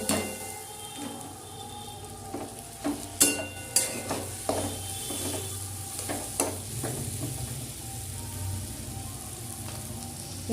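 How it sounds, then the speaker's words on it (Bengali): Chowmein noodles with vinegar and soy sauce are stirred and fried in a pan, a soft continuous sizzle broken by clustered scraping, clattering stirs of a utensil, close and moderate with no voices. "এখন আমি চাউটা মিশিয়ে দিচ্ছি।"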